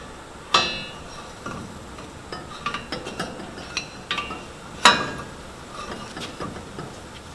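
Metallic clicks and clanks from tightening a propeller nut with an extension pipe for torque, scattered irregular ratcheting ticks and a few sharper metal knocks, close and moderately loud.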